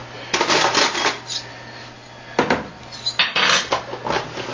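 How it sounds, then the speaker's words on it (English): Metal salad spoons clatter against a bowl while German potato salad is mixed, several bursts of clinking and scraping with short pauses between them, close and fairly loud over a faint steady hum. "Salad spoons, then I mix it."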